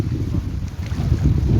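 Strong, cold wind blowing by a muddy shoreline with mangrove trees, a steady, loud rumbling buffet across the microphone that rises and falls without pause.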